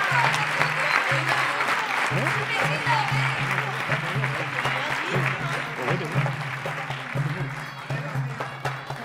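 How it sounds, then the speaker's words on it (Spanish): Audience applause for the Festera Infantil del año 2017 at a Moros y Cristianos festival poster presentation, a steady sustained clapping that fills the whole stretch, with a faint low hum running underneath. "Así que un aplauso para ella, para Rocío López Palazón, Festera Infantil del año"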